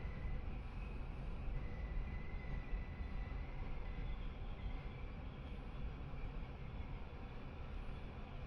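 Onboard an XPT passenger train on a sunny winter day, a steady low rumble of wheels and carriage noise with a faint high whine continues evenly throughout, quiet and without talk.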